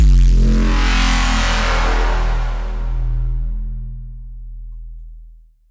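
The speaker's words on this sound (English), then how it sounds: "we're going to try and make a bass like this one I've done in Serum" A single heavy synthesized drum and bass bass note made in Serum hits hard with a gritty, buzzy top that slowly darkens and fades out over several seconds, no voices.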